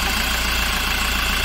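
Car engine idling just after being started, a loud steady mechanical drone with an even low pulsing throb, running alone without talk.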